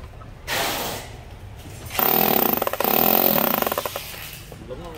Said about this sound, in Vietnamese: Đó là một con búa này mà Makita